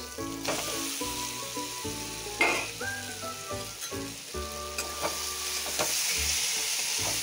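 Lote fish coated in salt and turmeric is added to a pan of spices and stirred. A continuous sizzle runs through it, with frequent scraping and clattering from the spatula.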